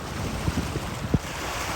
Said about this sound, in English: Boats just keep coming.